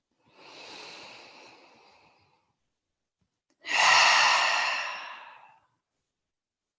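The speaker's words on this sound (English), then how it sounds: "take one collective breath with me, starting with an exhale out and a breath in." A slow, deliberate human breath during a trauma-informed yin yoga session: a soft, drawn-out exhale followed after a pause by a louder, fuller inhale, close and alone with no other sound.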